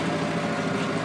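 A 1994 Ford Bronco Eddie Bauer sits idling with a steady low engine rumble, and a faint rapid ticking from an exhaust leak rides along beneath it for about a second.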